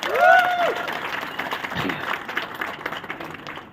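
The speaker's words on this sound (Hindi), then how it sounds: "जोरदार तालियां कृष्णा सर के लिए, जोरदार तालियां।" Loud crowd applause at a celebration of a new Audi A4 car, with a shout or whistle at the start, dense clapping continuing steadily throughout.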